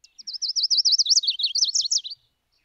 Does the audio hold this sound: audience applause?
no